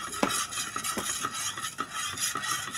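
A spoon scrapes and knocks around inside a pot of homemade ice cream mix with sugar in a loose repeating rhythm, close and clear, with soft swishing between strokes.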